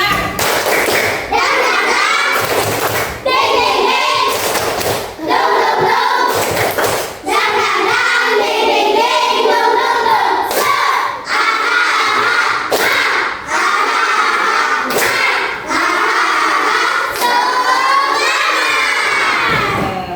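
Classroom children perform rhythmic clap chants, shouting words in unison while slapping out sharp patterned claps in bursts separated by short pauses, loud and close throughout.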